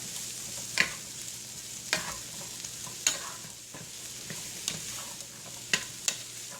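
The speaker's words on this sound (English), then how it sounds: "I've got just 1 or 2 pats of butter in the pan, and I'm going to throw in my mushrooms" Mushrooms frying in a pan with a pat or two of butter give a soft, even sizzle, punctuated by a string of brief sharp clicks and scrapes as they are worked with a utensil.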